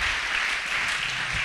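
A church congregation applauding during a service, a short dense wash of clapping from many hands, steady and fairly loud for a second and a half.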